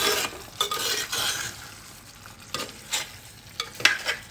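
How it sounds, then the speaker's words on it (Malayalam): Dried fish and green plantain curry being stirred in a pan on the stove, with scraping spoon strokes over a steady sizzle and a few louder clatters of the utensil against the pan, close and without speech. "ഇനി നമുക്കതൊന്ന് ഇളക്കി കൊടുക്കാം."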